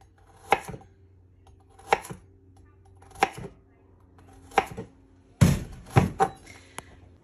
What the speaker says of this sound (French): Je vais également éplucher mes carottes et les couper en lamelles, ni trop fines ni trop grosses